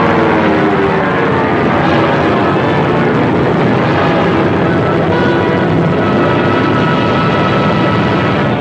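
A propeller aircraft engine roars steadily and loudly on a mail plane preparing for takeoff at an airfield in a 1940s setting, a continuous dense drone with no break for the whole stretch.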